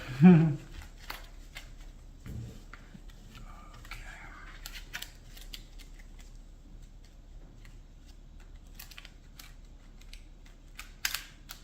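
A stack of Yu-Gi-Oh trading cards being gathered and squared up, with soft scattered riffling and tapping clicks, loudest at the start and returning briefly near the end, faint and close against a quiet room.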